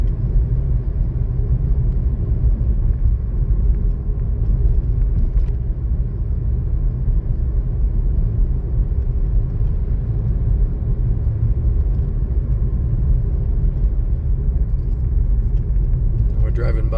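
A car on the Zion National Park scenic drive near Checkerboard Mesa, heard as a steady, unbroken low road rumble and engine hum from inside the vehicle throughout.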